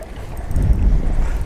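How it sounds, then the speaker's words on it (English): Strong wind on Last Mountain Lake buffets the microphone in a low, steady rumble, with faint lapping water beneath. "As you can see, it's windy again"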